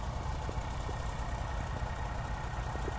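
Two tractors working at speed near the High Court in Amaravati, pumping out water: a steady, continuous low engine drone with a mid-range hum, even in loudness, moderately distant, with no talk.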